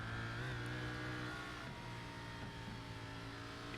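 A race car in the iRacing video game lifting off the throttle with the rear sliding, its engine note droning steadily and wavering a little as the revs shift, with no talk over it.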